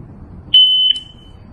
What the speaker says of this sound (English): It will beep when the countdown starts and will beep again when it ends.